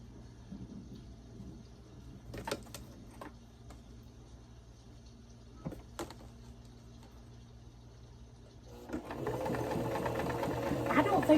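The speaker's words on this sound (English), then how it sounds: "So this is going to be experimental if I can even figure out how to sew this." A domestic sewing machine stitches quilt pieces corner to corner. After scattered clicks and handling noises, the motor starts up near the end and runs in a fast, loud, steady whir.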